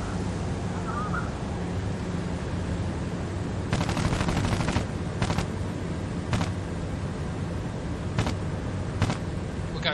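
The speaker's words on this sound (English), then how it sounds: "We got good shots out." Bursts of aircraft machine gun fire in the IL-2 Cliffs of Dover combat flight game, several short rattling volleys over a steady engine drone, loud and close.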